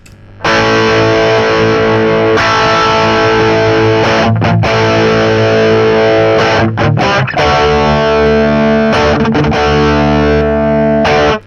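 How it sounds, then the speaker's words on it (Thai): An electric guitar played through a Friedman BE-OD Deluxe overdrive pedal: loud, gritty, distorted chords ringing out in phrases separated by brief pauses. "เอฟเฟกเสียงแตกที่น่าใช้ก้อนหนึ่งนะครับผม"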